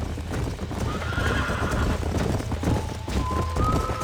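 Horses in Red Dead Redemption clop steadily on the ground while one gives a drawn-out whinny, then another neigh rises near the end, all over a low ambient hum.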